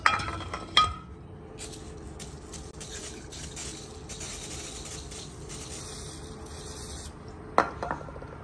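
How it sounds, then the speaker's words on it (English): Brake cleaner sprayed onto an engine part during an oil adapter gasket change on a 1997 S10: a steady aerosol hiss lasts about five seconds, close and fairly quiet, with a few metallic clinks before and after. "I use my little brake cleaner stuff, and I'm gonna clean this thing right here off"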